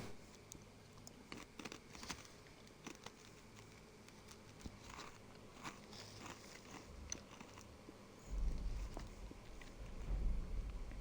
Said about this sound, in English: I'm so sorry that you guys can hear me munching